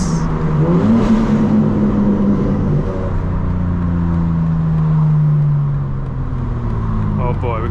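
A 2025 BMW M4 Competition xDrive accelerating on the road, its engine a loud, steady drone whose pitch climbs and shifts through gears, heard from inside the car.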